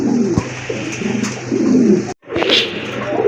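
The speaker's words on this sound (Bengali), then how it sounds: "আরেক জোড়া কবুতর আফসান গ্রিজেল কবুতর, অনেক বড় সাইজের কবুতর" Large Afsan grizzle pigeons at a pigeon sale coo in repeated low throaty bursts, close and clear, with a brief cut near the middle before the cooing resumes.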